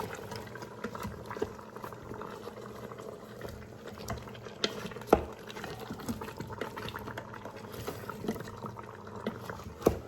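A pot of curry cabbage soup bubbles softly while it is stirred, with occasional small clinks and knocks over a low, continuous simmer. The sound stays quiet and close throughout.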